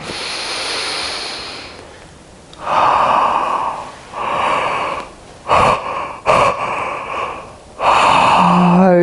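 Slow, deep breaths during a guided meditation session, several long audible inhalations and exhalations close to the microphone, separated by short quiet pauses.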